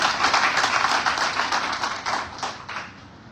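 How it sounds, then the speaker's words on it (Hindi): An audience at a civic seminar in Indore claps loudly in a dense, steady burst of applause that holds strong for about two seconds, then gradually thins and tapers off, with no voices over it. "उनके लिए मैं चाहूँगा कि आप जोरदार ताली बजाएं"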